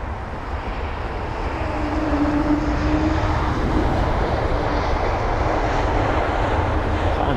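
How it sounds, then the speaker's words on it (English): An Air France Airbus A220 on its landing approach gives a steady, loud jet roar that swells after the first couple of seconds and holds, with a faint rising whine in the engines. No one speaks. "We've got an A220. Might get a Wookiee from that."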